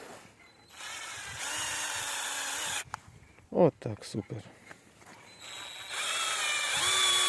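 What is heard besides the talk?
cordless screwdriver drill driving screws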